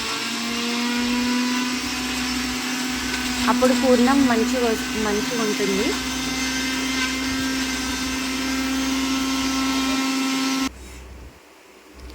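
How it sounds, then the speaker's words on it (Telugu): A kitchen mixer grinder whirs steadily, grinding jaggery for a sweet filling, with someone talking over the motor for most of the run before it cuts off near the end. "కొద్దిగా తీసుకొని మిక్సీ పెట్టాలి"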